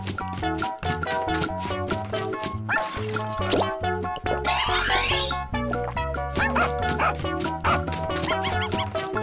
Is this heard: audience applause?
no